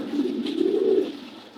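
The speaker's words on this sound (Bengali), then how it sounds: "আবার দেখাই কবুতরগুলো, শর্টকটা অনেক কাটাকাটি করতেছে, অনেক শক্তিশালী কবুতর" Racer pigeons coo softly and close by, a single low rolling coo that swells and fades over a quiet background.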